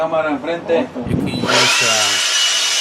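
A person speaks briefly, then an air blower gives a steady, loud rushing hiss as it blows dust off GE electric dryer parts during repair.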